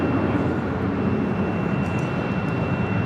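A Boeing 737-800 jet airliner of Southwest Airlines at Los Angeles LAX airport, a steady, loud, broadband engine roar holding level throughout with no talk.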